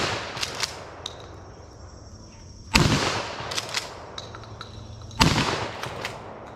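Two loud, sharp shotgun blasts from a vintage Winchester Model 12, fired about two and a half seconds apart outdoors, with quieter ambient chirps and rustling between the shots.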